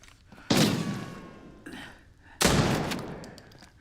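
Two sharp, loud booming blasts roughly two seconds apart, each decaying with a rumbling tail, like heavy gunfire from a game.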